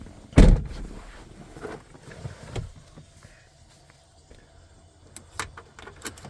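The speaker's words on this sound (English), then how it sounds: "see how it works when the door's closed for the first time" An RV door closes with a sharp, loud thunk fitted with a homemade security pin lock, followed by quieter rattles, clicks and small metallic knocks as the pin settles.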